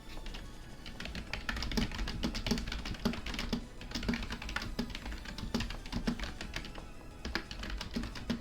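Rapid clattering keystrokes on a computer keyboard sound close and steady for several seconds, with dense uneven bursts of clicks and short pauses, and no talking.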